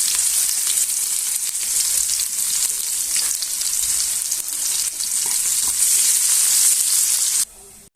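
Onion, garlic and dried chillies frying in hot mustard oil give off a loud, steady, close sizzle with faint stirring throughout, cutting off abruptly at the end.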